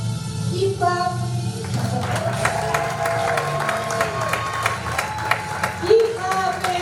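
Sustained audience clapping fills a hall at a Lynn University summit, a steady wash of many hands with scattered cheers and a voice speaking over it now and then.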